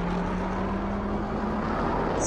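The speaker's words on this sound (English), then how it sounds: "because plane is very loud" Airplane engine drones steadily inside Call of Duty: Warzone, a constant loud hum with a low tonal whine holding throughout, close and unbroken.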